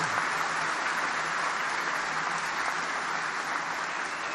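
A large crowd applauds the shipbuilders at the commissioning of the aircraft carrier USS Gerald R. Ford, a dense, steady roar of clapping throughout.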